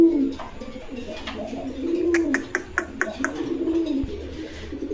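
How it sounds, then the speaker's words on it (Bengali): Pigeons at a breeder's stall give low, throaty coos that repeat in soft rolling phrases close by, mixed with a few light clicks and faint background noise. "এখানে আরেক জোড়া কবুতর দেখতে পাচ্ছেন"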